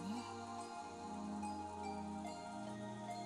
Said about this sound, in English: As we listened to the sound of the rain